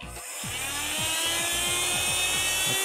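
An ultra-light, compact NX-PVC35WH handheld vacuum cleaner runs with a steady, close motor whine. It swells in the first half second, then holds loud and continuous, with faint rhythmic pulses beneath it and no talking.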